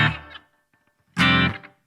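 Distorted electric guitar through a BOSS GT1000 with the noise gate placed after the reverb: two short overdriven chord stabs, each chopped off abruptly so the reverb tail vanishes, with near silence between them.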